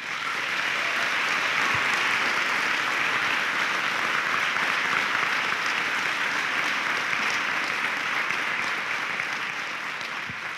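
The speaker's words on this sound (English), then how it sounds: "I'd ask you to join me in a round of applause for your parents and your family." A 2019 commencement crowd applauds parents and family in a sustained, dense round of clapping that holds steady for about ten seconds without any talking.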